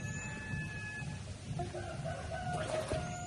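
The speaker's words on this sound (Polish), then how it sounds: "Ale koguty pieją tutaj za rogiem." Roosters crow in the distance in Bali over a low outdoor rumble of traffic and background noise, a couple of drawn-out calls overlapping near the end.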